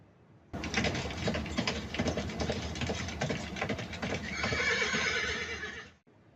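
A horse whinnies over rapid, clattering hoof clip-clops, loud and close, with a high neigh rising near the end before it stops.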